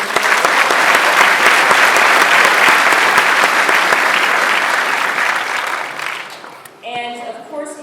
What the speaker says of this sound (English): The courthouse singers, of course, again, another round of applause